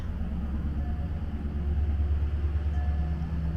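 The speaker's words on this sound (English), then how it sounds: "There's the beautiful sound of the trash truck." A garbage truck passes outside on a residential street, a steady low rumbling engine drone that holds evenly throughout with no voices.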